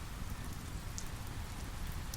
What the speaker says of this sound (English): The rain is heavy now, sheets of sparkling droplets forming small puddles and streams towards the lake.